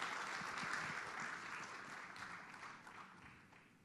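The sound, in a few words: applause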